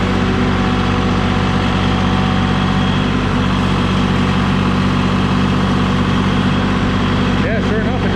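A CTX 160 mini skid steer's Kohler 40 hp diesel runs at raised throttle while lifting about 1,680 pounds, a loud, steady close-up engine drone with a continuous low rumble throughout.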